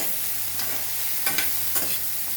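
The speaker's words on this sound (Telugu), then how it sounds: "మధ్య మధ్యలో కలుపుకోకపోతే మాడిపోతుంది. కలుపుకుంటూ ఉండాలి." Curry frying in a pan is stirred with a spoon, giving a few brief scraping strokes over a steady, soft background sizzle.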